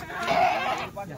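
Goats bleat on a livestock farm, a single drawn-out wavering cry close by that fades near the end, with a little background chatter.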